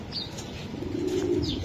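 Racer pigeons coo in a low, throaty rolling call close by, with a few faint chirps and a brief flutter of wings.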